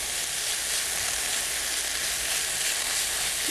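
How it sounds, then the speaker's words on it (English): Thai curry beef sizzles and fries steadily in a hot pan as it is stirred, a loud continuous hiss with faint scraping, no voices. "I'm going to give this a stir."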